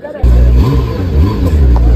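A car engine revs loudly and close at a supercar and superbike show in Thane, rising and falling in pitch over about two seconds, with crowd chatter underneath.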